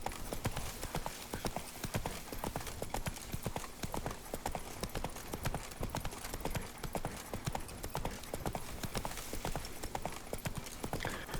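Steady clip-clop of horse hooves trotting along in the video game The Witcher 3, close and continuous, with a faint whinny and light background noise.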